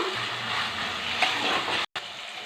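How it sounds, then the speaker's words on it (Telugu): Brinjal stirred and fried in a pan for a Telugu brinjal fish curry gives a dense, steady sizzle that cuts out briefly near the end. "వంకాయలు వేసుకున్నామండి కలపెట్టుకున్నాం"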